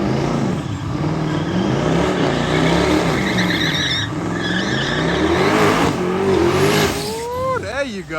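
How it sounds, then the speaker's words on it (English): Twin-turbo Dodge Challenger accelerating hard on a race track, a loud, continuous engine roar with rising revs and a brief tire squeal near the end, while people talk over it. "Twin turbo Challenger."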